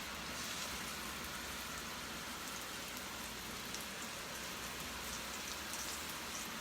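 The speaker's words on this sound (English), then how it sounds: "I'm wondering if you guys can hear the rain." Steady rain falls outdoors during a live cooking broadcast, a faint, even hiss of drops that continues without a break or any voices.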